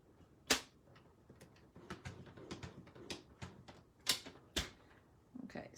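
Paper being scored with a scoring blade on a scoring board: a series of short, crisp clicks and scraping strokes in an irregular rhythm, with a few sharper snaps standing out, close and fairly quiet.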